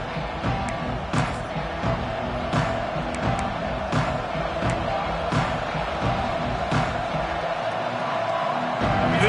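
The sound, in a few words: football stadium crowd cheering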